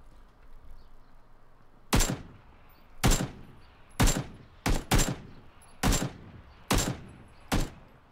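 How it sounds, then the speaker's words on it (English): Seven sharp gunshots from PlayerUnknown's Battlegrounds ring out at irregular intervals, each a loud, crisp crack with a short decay, no voices around them. "If there is, I'll start shooting at him."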